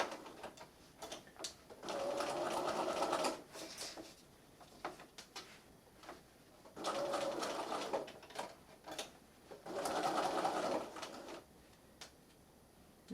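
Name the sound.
sewing machine stitching fabric of a plush bunny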